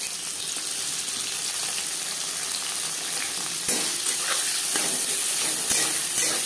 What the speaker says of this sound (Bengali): সবার প্রথমে পেঁয়াজ ভেজে নেব।